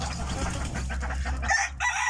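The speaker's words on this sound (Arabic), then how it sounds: "هناك 4 فراخ صغار كما تلاحظون" Newly hatched Fayoumi chicks peep steadily in high, thin chirps over a constant background hum.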